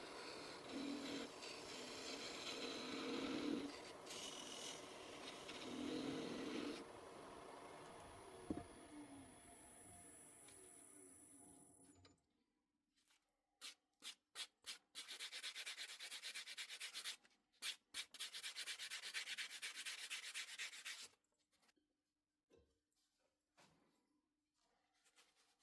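Wooden baby rattle being sanded on a lathe, a scratchy rubbing hiss that runs steadily, then breaks into short repeated bursts with brief pauses, close and fairly quiet.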